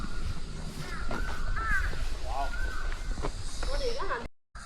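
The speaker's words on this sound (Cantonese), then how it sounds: "今日好多烏鴉叫" Several crows caw repeatedly along a hillside hiking trail near Tung Chung, their harsh calls ringing out at mid distance while people talk and walk.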